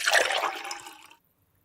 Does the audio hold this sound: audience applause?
no